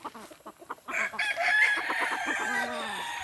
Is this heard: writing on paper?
no